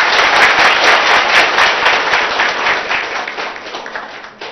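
Crowd applause at a village public meeting in Vasalamarri, Telangana, a dense burst of many hands clapping at once that starts loud and slowly tapers off, with no voices.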